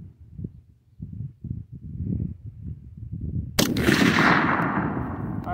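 A DPMS Panther Arms AR-.308 rifle fires one sharp, loud shot after a stretch of low rumbling background, and the report rings out and fades slowly.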